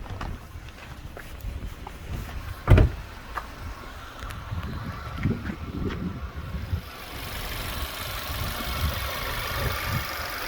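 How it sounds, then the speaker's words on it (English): A cold 2010 Audi A3 Sport with a 1.4 TFSI engine and S-tronic gearbox idles smoothly under an open bonnet, a low, even hum heard nearby, with a brief thump early on and faint shuffling around it. "Ticks over very nicely."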